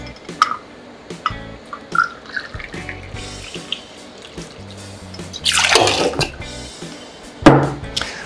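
Lime juice, lemon oleo saccharum and gin for a gin sour are poured into a metal shaker tin, giving short liquid trickles and splashes separated by small clinks and quiet handling.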